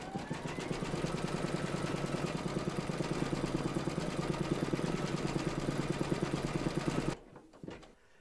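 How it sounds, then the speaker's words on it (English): An embroidery machine stitches a reindeer towel topper with a fast, even mechanical chatter that runs steadily, then stops abruptly near the end, followed by a few faint handling sounds. "Load your thread colour for his nose into your machine and then stitch round number 8"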